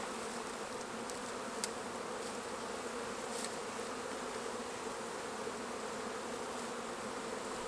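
Swarm of feral honeybees buzzing steadily around a hollow as comb is trimmed and extracted, a continuous close hum with no voices.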